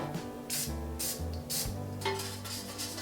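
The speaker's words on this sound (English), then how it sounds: "I always use cooking spray." Short hissing bursts of cooking spray into a non-stick cake pan, several in a row, close and steady, against a faint background hum.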